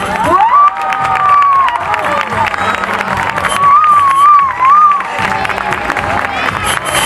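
Crowd at a Christmas lights switch-on in Montgat applauding and cheering, loud sustained clapping mixed with shouts, whoops and children's voices, with whistles and sung tones rising above the noise.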